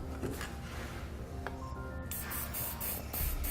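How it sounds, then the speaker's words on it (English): Enamel spray paint hisses from an aerosol can onto bare drilled metal on a vehicle base plate, in short bursts close by after some faint clicks and handling noises. "take a little bit of enamel spray paint, clear coat if you want, and spray the bare metal to reduce any risk of rusting later on"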